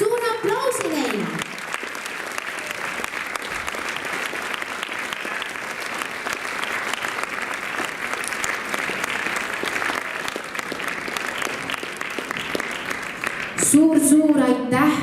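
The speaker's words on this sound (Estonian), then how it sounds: "teeme suure aplausi neile" A sustained round of audience applause at a dance club performance, honouring the dance instructors. The clapping is steady and fills the room, and an announcer's voice is heard over it briefly at the start and at the end.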